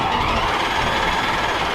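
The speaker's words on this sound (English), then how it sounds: "That is a proper FI exhaust." A Lamborghini Aventador hypercar with an aftermarket exhaust runs loudly up close, a dense, steady, rasping roar that fills the whole short moment without letting up.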